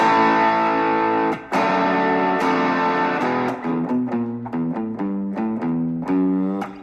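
Electric guitar with effects and distortion plays the closing chords of the chorus of a song, sustained chords giving way to quicker rhythmic strums, up close and alone with no talking.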